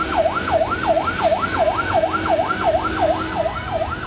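Fire engine sirens wail, sweeping up and down in a steady, repeating cycle, loud and continuous over a low rumble of traffic.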